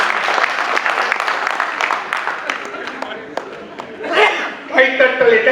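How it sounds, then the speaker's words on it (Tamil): Audience applause at a Tamil talk on married life, dense clapping filling the first four seconds and then thinning into scattered claps and murmuring as the crowd settles. "கைத்தட்டல் இங்கே ஒன்றை உறுதிப்படுத்துகின்றது"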